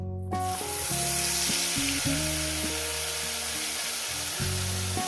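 Spice paste mixture with mustard and poppy seed hits hot oil left from frying pabda fish, hissing in a steady loud sizzle throughout, with tonal hum and brief clinks beneath.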